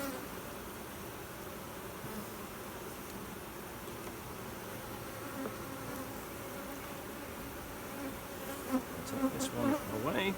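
A honeybee colony swarms around a hive frame, producing a dense, continuous buzzing close at hand, with a few louder passes near the end and no talk.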